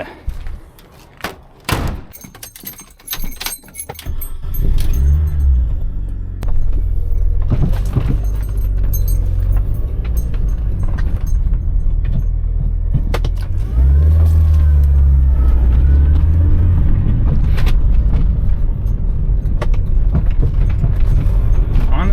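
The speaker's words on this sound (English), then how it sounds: "There's still some bumping and rattling, but that's actually pretty normal for this car." An R53 Mini Cooper S with freshly replaced strut tower mounts rolls out on a test drive, its engine droning steadily with a door thump and clatter at the start, then a continuous low road rumble with intermittent bumps and rattles.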